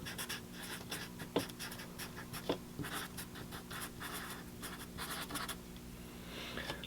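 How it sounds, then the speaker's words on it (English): A pen or pencil writing on paper up close, a steady run of soft scratchy strokes in short rhythmic bursts, quiet and without speech. "And on the top left, write monthly income."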